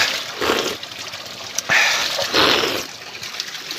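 Cold water from a mountain fountain in Pakistani Kashmir splashes and trickles in uneven bursts close by, a bright hissing wash that swells and fades, with no talking.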